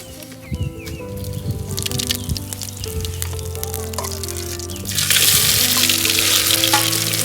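Spices tempering in hot oil for a potato filling, cooked outdoors on a farm, give a steady frying sizzle that swells noticeably louder and brighter partway through, close and continuous with no talking.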